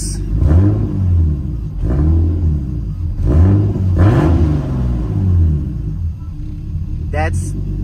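A turbocharged BMW M50 engine in an E30 revs repeatedly in loud, close bursts, each throttle blip rising and falling in a steady rhythm over a rumbling idle, with a person talking between revs.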